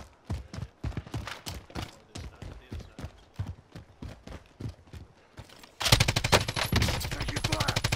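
Gunfire in the Call of Duty Modern Warfare video game: scattered shots and short bursts at first, then a dense, loud stretch of rapid automatic fire that continues to the end.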